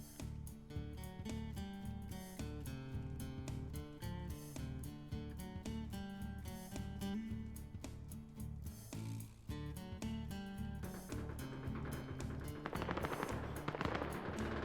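Rapid bursts of automatic gunfire crack out in a multiplayer shooter battle, dense rattling volleys with short gaps, loud and close, growing noisier and more chaotic toward the end.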